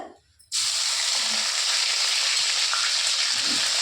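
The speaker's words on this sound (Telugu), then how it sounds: "ఇప్పుడు ఇదే నూనె కొంచెం ఎక్కువ అవుతుందని తీసినాం కదా, దీంట్లో కొంచెం అల్లం పేస్ట్ వేస్తున్నాయి" Ginger paste hits hot oil with a sudden loud, steady sizzle that holds at full strength throughout, in a village-style kitchen making chicken pickle.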